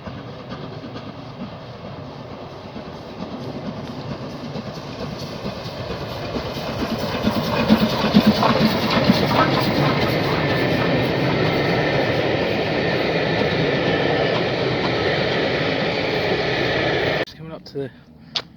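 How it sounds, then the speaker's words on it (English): A train rumbles past with a steady roar and faint rhythmic clatter, growing louder midway, then cutting off abruptly near the end. "I love the smell of these trains when they go past."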